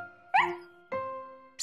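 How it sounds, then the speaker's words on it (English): Cartoon dog barking in an animated children's show, two clear, close barks about half a second apart with a third starting at the end, each ringing out briefly. "Just then, Snuffy started to bark."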